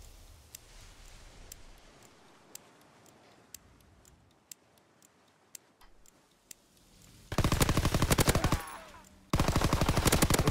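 Video game gunfire in a competitive shooter match, with sparse ticking shots early on, then loud sustained automatic bursts in two long volleys near the end.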